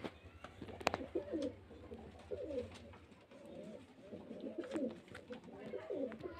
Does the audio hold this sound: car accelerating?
no